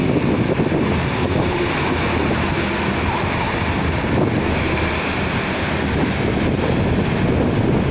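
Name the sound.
strong wind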